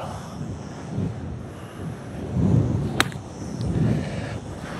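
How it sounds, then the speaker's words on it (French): Gusty crosswind on a golf course in Spain buffets the microphone in low rumbling surges, with a faint distant hum underneath and one sharp click midway. "Et beaucoup de vent droite-gauche"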